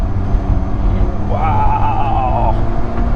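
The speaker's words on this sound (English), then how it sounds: "the downshift on its own is pretty crazy" A car engine revs on a downshift, a loud, close rising and falling harmonic note that swells for about a second over a steady low rumble.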